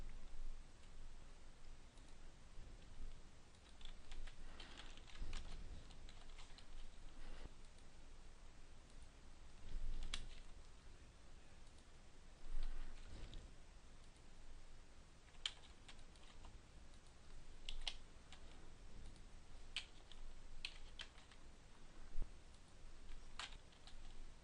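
Steady typing on a computer keyboard, a continuous run of fast key clicks with occasional louder taps, close and clear with no talking.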